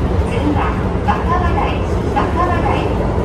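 A Keio Line train arriving at Wakabadai terminus rumbles steadily, with rhythmic clatter from the wheels and a low mechanical drone, close and continuous.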